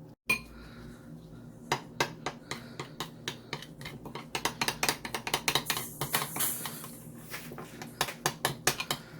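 A metal utensil stirs karahi with chilies in a pan, a series of quiet, sharp clinks and scrapes in irregular bursts that grow busier halfway through, close by with no talking.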